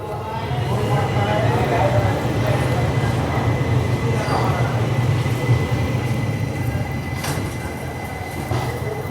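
The Rajya Rani Express waits at a platform with a steady low rumble of train and station noise, a faint squeal now and then, and a voice speaking over it.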